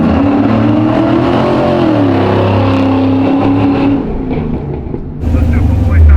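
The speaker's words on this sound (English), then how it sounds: "Are you ready for the burnout, Troy?" A custom slammed Chevy C10 truck roars through a burnout, its engine revving loudly and holding a strained pitch before dropping off and surging again, with people talking over it.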